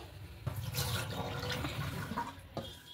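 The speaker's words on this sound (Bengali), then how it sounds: "তো এই জলটা ফেলে দেবো।" Water left from rinsing flour dough is poured away, giving a short splashing, gurgling rush that rises and then trails off over a few seconds.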